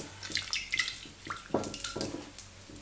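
Glue and water being stirred in a pot for a Halloween craft, giving wet sloshing and dripping sounds in uneven strokes, close and moderately loud, with no talking.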